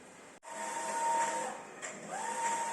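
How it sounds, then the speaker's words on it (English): A Mimaki eco-solvent printer prints onto HTV-300S printable vinyl, giving a steady mechanical whir with a whining carriage tone, a brief click and a short pause partway through. "Now it is printing,"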